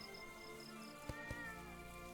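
A faint cat meow from the Clanfolk video game sits beneath a soft, steady game background, with a couple of short clicks nearby.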